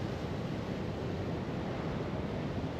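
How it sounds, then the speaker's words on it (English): Steady, close wind roars across a seaside cod fishing spot at Beacon Point, Newbiggin-by-the-Sea, blending with a constant wash of surf into one unbroken blustery rumble with no talk. "That wind's also picked up slightly as well."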